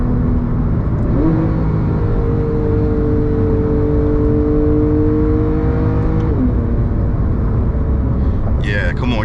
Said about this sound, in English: if you really want to get more aggressive with it, I'll open the exhaust, it dropped another gear